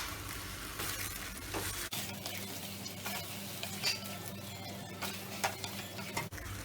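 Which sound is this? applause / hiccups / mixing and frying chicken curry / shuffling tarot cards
mixing and frying chicken curry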